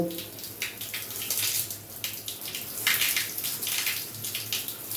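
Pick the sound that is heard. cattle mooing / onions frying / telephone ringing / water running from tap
water running from tap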